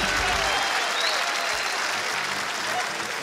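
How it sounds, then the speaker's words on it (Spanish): Studio audience at a comedy TV show bursts into steady, dense applause filling the room, loud and sustained throughout without a break. "Fuerte, fuerte el aplauso para ellos, fuerte."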